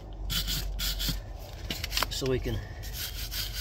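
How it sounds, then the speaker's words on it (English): A farrier's rasp scrapes off horseshoe nail clinches on a horse's hoof, a few coarse rasping strokes up close, with someone speaking briefly between them. "rasp them off so we don't tear the foot up when we pull the shoe"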